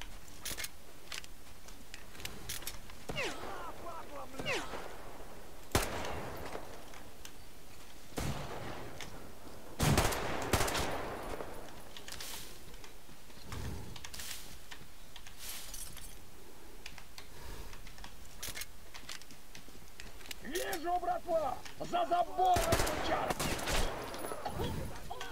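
Gunfire in the shooter game Metro Exodus, with scattered sharp shots and bursts across a steady background, some louder volleys in the middle and toward the end, while someone talks over the action.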